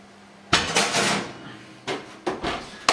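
Several clattering knocks as a lid is handled and set onto a pot of lamb shanks. Loud, close hits come at the start and in a few quick bumps near the end, with no talking.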